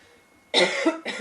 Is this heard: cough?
yes